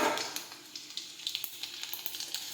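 Garlic, mustard seeds and cumin sizzle in hot oil with a steady close hiss. Small sharp pops and crackles break through it in quick succession.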